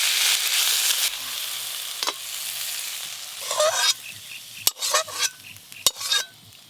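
Sajne flower posto is stirred with sugar in a pan: a sizzling hiss at first, then a run of scraping stirs and sharp spoon knocks against the pan, close and without talk.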